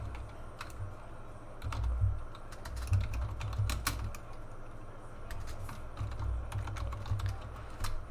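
Quiet, steady tapping on a computer keyboard, with keystrokes clicking at an even pace over a low background hum.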